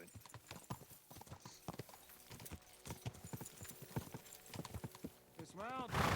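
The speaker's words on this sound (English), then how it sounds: "listening to the horse's hooves ride on the ground" A horse's hooves clip-clop rhythmically along the ground in the video game Kingdom Come Deliverance 2, a steady trotting beat with talking over it and a short whinny near the end.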